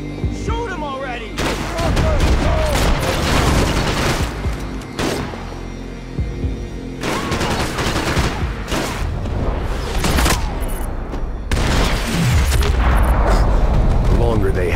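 Gunfire in the video game Max Payne 3, a dense, loud stretch of shots and booming impacts running nearly throughout, with brief lulls, under game voices shouting over the combat.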